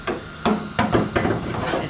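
Hammer blows on the metal body of a 1967 Mustang convertible during restoration, five sharp strikes at an uneven pace, close and fairly loud, with no talk.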